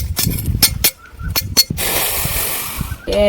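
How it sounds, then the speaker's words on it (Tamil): Water drawn by hand without any machine at a forest homestead in Tamil Nadu: a few sharp, close splashes and knocks, then a steady rushing pour of water for about a second, with a short voice right at the end. "இயந்திரமே இல்லாமல் எங்களால் பாருங்கள் தண்ணி எடுக்க முடியுது"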